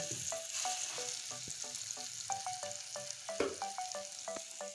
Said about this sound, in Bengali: এবার দেখুন পেঁয়াজ রসুন আর টমেটো লাল করে ভেজে নিয়েছি